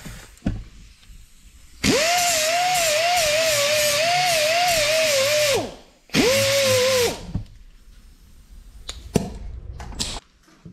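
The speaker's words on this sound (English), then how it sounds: "I'm just going to touch this with a grinder to clean it up." An angle grinder cleaning up the end of a broken 3/8 bolt whines loudly and steadily in a long burst of about four seconds, then a second shorter burst, followed by faint clatter in a workshop.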